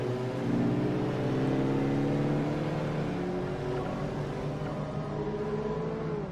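Electric Nissan Leaf driving in Forza Motorsport 4, a steady rising electric-motor whine with layered tonal hum and no gear changes or revving, continuous and fairly loud throughout.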